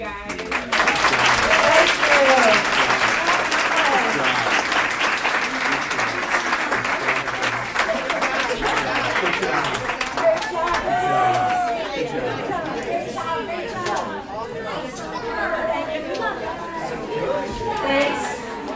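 Audience applause for a state senator at an advocacy day event, sustained clapping from a crowd with chatter mixed in, gradually thinning toward the end.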